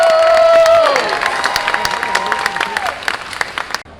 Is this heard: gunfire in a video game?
no